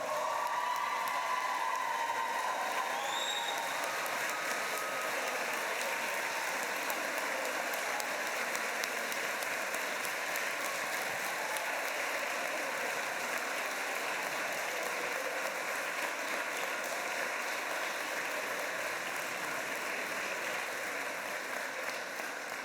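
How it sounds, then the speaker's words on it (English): Graduation ceremony audience applauding and cheering for their families, a dense, steady wash of many hands clapping that continues unbroken and fairly loud from start to finish, with faint voices mixed in at the opening. "So please stand up and give them a big cheer."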